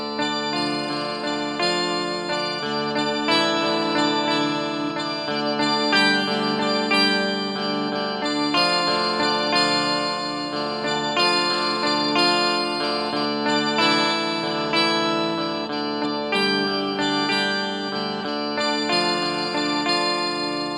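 Electric guitar through a Walrus Audio Luminary quad octave pedal, with several octaves blended over a little dry signal. Sustained, organ-like chords ring with rich stacked harmonics and change every couple of seconds, played alone without talk.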